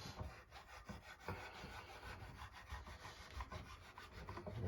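Hand sanding a guitar with 400 grit sandpaper, a steady close scratchy rubbing of abrasive over wood in quick repeated back-and-forth strokes, alone with no talk.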